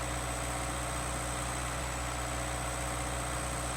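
An engine idling steadily in the Xtreme Survival video game after starting up, a continuous low mechanical hum with a constant drone throughout, close and even, no talking.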